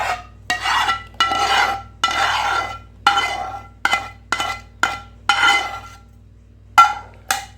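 A thickened mixture being stirred and folded into whipped cream in a bowl for vanilla and chocolate ice cream, a series of close, loud scraping strokes of a spoon against the bowl with short pauses between them, over a faint low hum.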